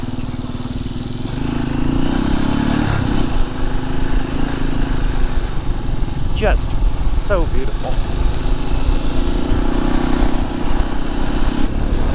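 A Halcyon 450 motorcycle engine drones steadily underneath as it is ridden through the Colorado mountains, a constant mid-pitched hum that holds at an even level while someone talks over it throughout.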